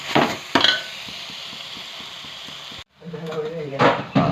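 Onions, ginger, garlic and tomatoes sizzle steadily in a pan, with a couple of sharp clanks of a spoon stirring against it and a short break before the frying resumes.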